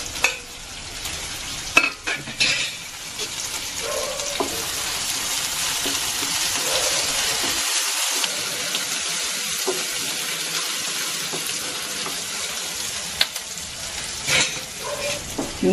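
Ginger, garlic and curry leaves sizzling in hot oil for a vegetable paneer pulao, a steady close frying hiss with occasional stirring clinks and no talking.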